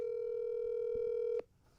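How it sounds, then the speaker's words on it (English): A single steady telephone ringback tone holds for over a second, then cuts off abruptly, heard alone during an outgoing phone call. "I'm gonna call Wack right now."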